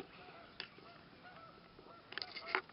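Geese taking off from a floodplain field on a rural North Carolina horse farm, honking calls scattered across the clip, faint and distant at first, then a louder cluster of honks near the end.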